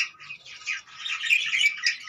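Lovebirds in a colony setup give a run of shrill, nasal squawks and chatter, close and fairly loud, with no talk.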